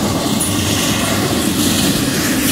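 Norfolk Southern freight train led by twin EMD SD70ACe locomotives rushing past at speed, a loud steady roar of wheels and rails with a faint high squeal, no horn audible in this short stretch.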